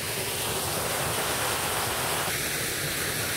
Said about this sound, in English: There's a waterfall behind me.